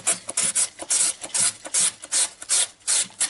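Carrot grated into long strips on a Korean carrot grater: quick, rhythmic rasping strokes, about three per second, close up with no talk.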